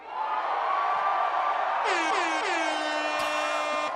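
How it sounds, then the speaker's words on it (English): Repeated air horn blasts ring out at a political rally, several long bright honks stacking over a steady roar of crowd noise, the last blast sharp and loud near the end. "Bro, I can't with the air horn."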